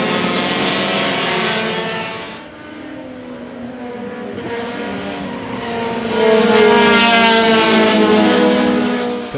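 Honda Challenge race cars racing at Mid-Ohio in 2004 roar past with high-revving engines and shifting pitch, loud and fairly near, one wave of engine noise fading and another building as cars pass, with no speech.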